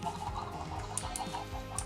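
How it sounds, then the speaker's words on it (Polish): Minecraft chickens cluck softly in a scattered, repeated rhythm, mixed with faint game ambience and a few high blips. "Armia kurczaków"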